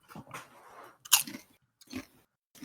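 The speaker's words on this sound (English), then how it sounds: "Sounds like someone's crunching some chips really loud." Crunching of chips in a few separate bursts of biting and chewing, close and crisp but fairly quiet overall, with short silent gaps between bites.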